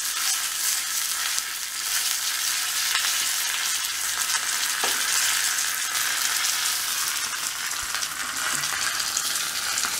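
Curry leaves and dried red chillies frying in hot oil after mustard seeds have popped, giving a loud, steady, close sizzle that runs unbroken throughout.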